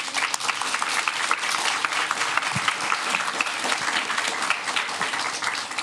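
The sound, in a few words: applause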